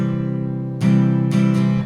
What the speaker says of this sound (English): So the strumming pattern sounds like this.